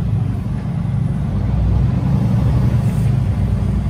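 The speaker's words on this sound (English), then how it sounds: "it's a truck with a horse trailer with a trailer" A truck pulling a horse trailer rolls past on a forest road, a steady low engine rumble and road noise that holds fairly loud and even throughout, with no talk over it.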